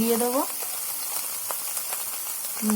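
Greens frying in oil in a pan for a shrimp stir-fry, a soft steady sizzle with a few light scrapes of stirring, moderately close; a voice is heard briefly at the start and again at the end.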